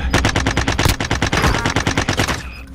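Rapid automatic gunfire in the video game Call of Duty: Modern Warfare, loud and close, with a dense run of bursts that fills nearly the whole stretch before cutting off.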